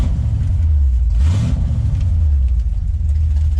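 A Ford Ranger long bed pickup idles with a steady low engine rumble, close by, briefly rising in a short swell of revs before settling back to an even idle; no talking.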